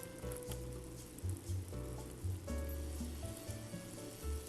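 Eggs cook in a frying pan with a steady sizzle, joined by a low background hum and a few soft clinks that come and go. No one speaks.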